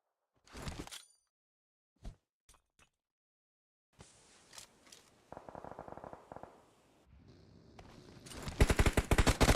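Bursts of automatic gunfire and single shots ring out in a PUBG Mobile scrim match, scattered sparse cracks at first, then denser rapid volleys building loudly toward the end.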